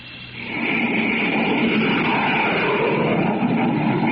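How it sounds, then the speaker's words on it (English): A loud, steady jet roar with a broad rushing hiss, swelling up in the first half-second and then holding constant and close. "You're listening to the blazing roar of a jet plane."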